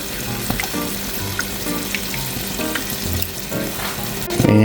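Soy sauce, mirin and honey sizzle steadily in a frying pan for a New Year soba dish, a close continuous fry with a few soft stirring and clinking sounds and a louder burst at the end.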